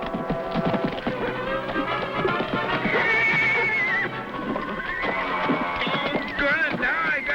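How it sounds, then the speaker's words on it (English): A horse whinnies loudly several times with scattered clip-clopping hooves, in an old 1955 western adventure scene, the calls rising and falling over continuous background score. "now I got a crazy horse after me, too"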